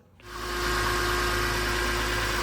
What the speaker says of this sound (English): Turn on the car, let it idle, see if it leaks.